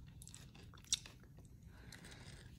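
A crunchy chocolate-centred candy being chewed close up, with a sharp crunch about a second in followed by quieter chewing and mouth sounds, no talking.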